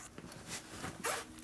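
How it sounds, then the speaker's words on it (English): A zip tie is ratcheted tight on a Harley with an S&S 113ci Evo motor and blown belt drive, giving several short raspy zipping pulls, close up and fairly quiet. "So now I'm going to put a zip tie on it"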